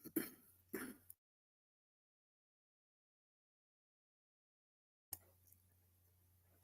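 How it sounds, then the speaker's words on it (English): Two short, rough coughs close together near the mic, then several seconds of silence before a faint click or rustle. "Oh, bad cough, man."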